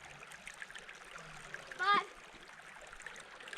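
A brief splash of something dropping into water at Bryce Canyon National Park, a short burst midway through, with a child counting aloud and faint background murmur around it.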